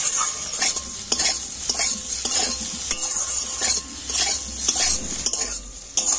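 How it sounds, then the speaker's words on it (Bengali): Snacks frying in oil in a pan and being stirred, with a steady bright sizzle and a regular rhythm of utensil scrapes against the pan, close and fairly loud. "তো সব কিছু নাস্তাগুলো একটু আমি এইভাবে নাড়াচাড়া করে নেব।"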